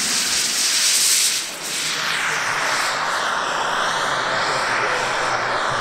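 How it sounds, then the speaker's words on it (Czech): A JetCat turbine on a Viper Jet model aircraft whines and roars loudly nearby at an airfield, its high hissing pitch sweeping and shifting as it spools up, with no voices. "Startuje turbínou poháněný model Viper Jet"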